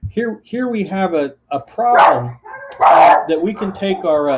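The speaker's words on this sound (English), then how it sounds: "Sorry about my dogs." Someone talks while dogs bark loudly in the background, several sharp barks cutting through his speech.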